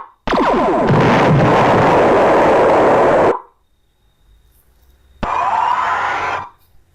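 An Amiga video game plays a loud, harsh noisy blast for planet Earth exploding, lasting about three seconds, then near silence, then a second, shorter burst of the same roar.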